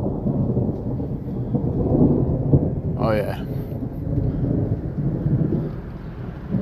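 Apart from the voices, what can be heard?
rain falling with thunder during a lightning storm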